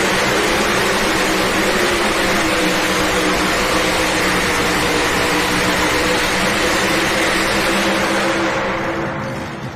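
Pulling tractor at an indoor truck and tractor pull, its engine roaring loud and unbroken at full power for several seconds before starting to fade at the very end.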